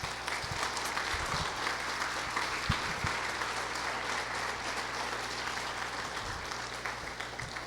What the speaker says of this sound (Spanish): Vamos a darle un aplauso a todos los papás